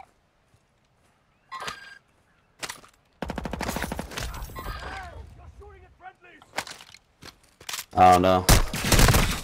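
Video-game gunfire breaks a quiet stretch with isolated shots, then sustained automatic bursts and a heavy, loud volley at the end; someone speaks briefly among the shots.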